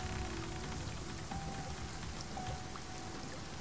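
Rain falls in the video game Spiritfarer as a continuous, even hiss of drops, faint and alone throughout.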